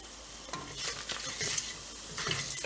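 Dry red chilies, turmeric and chili powder sizzle in oil, a soft steady fizz with light stirring clinks, fairly quiet and close.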